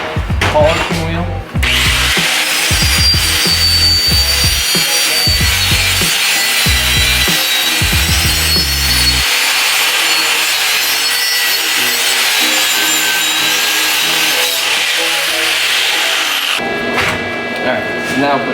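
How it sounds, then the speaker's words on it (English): A polishing wheel buffs a car wheel in a drift-car build, a loud continuous abrasive whir with rough rubbing bursts, then a smoother steady grind that stops near the end; a voice speaks briefly at the start. "then we go back to polishing wheel"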